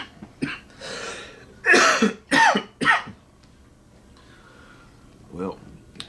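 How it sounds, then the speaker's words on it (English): A man coughs hard several times in a row, close and loud, with a couple of rough throat-clearing bursts, then a quieter cough after a pause, all outdoors on a post-rut deer hunt. "Y'all gonna have to excuse me. This cough is getting me."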